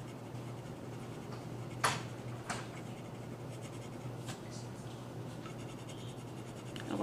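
Colored pencil on paper, a soft steady scratching of strokes with a few sharper taps, quiet and close with no talking.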